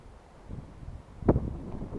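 Wind gusts buffet the microphone outdoors near the water while fishing. A low rumbling blast peaks briefly in the middle of the clip over a steady breezy background.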